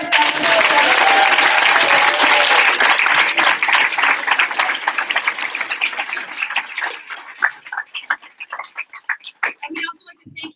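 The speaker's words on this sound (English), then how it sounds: "let's give a big round of applause for all our fellows" Audience at a celebration of service gives fellows a big round of applause, loud dense clapping that thins out into scattered, fading claps over about ten seconds.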